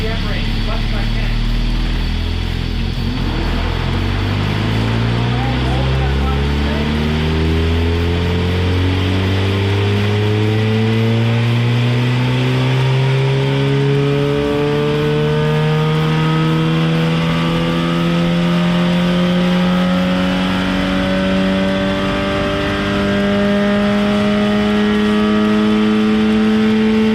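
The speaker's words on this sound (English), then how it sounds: "let the bike get as low as we can in RPM so I can touch every RPM range as much as I can" A Suzuki Gixxer 750 motorcycle engine runs on a dyno, its loud, continuous roar climbing steadily in pitch as the revs sweep upward from low RPM.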